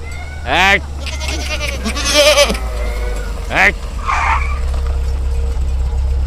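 Goats bleat in short, wavering calls, two clear ones and a fainter third, over a steady low rumble, close and fairly loud.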